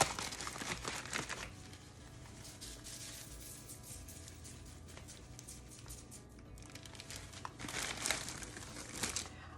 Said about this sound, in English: we just need to spread out some cornmeal on the parchment paper